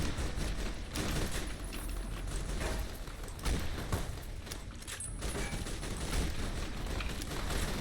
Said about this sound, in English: Like, literally the moment I show myself, I'm getting sniped by 100 people.